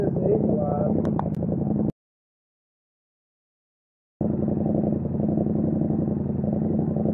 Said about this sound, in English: Let the bike warm up